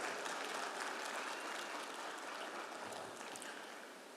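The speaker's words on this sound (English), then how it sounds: "It deserves a little more applause," An audience at a conference session claps in a dense, steady wash of applause that tapers slightly toward the end, heard faintly from a distance without speech.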